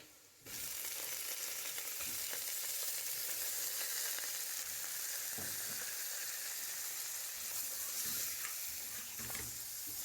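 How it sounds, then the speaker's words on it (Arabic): Beef sizzles hard in a pan with browned onions, a dense steady hiss that bursts in as the meat drops in and continues loud and close, with occasional stirring knocks. "بعد ما حمر البصل نحط اللحمة"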